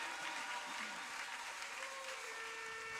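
Church convention audience applauding the Lord, steady dense clapping that fills the whole stretch at an even level, with a faint sustained tone rising underneath toward the end.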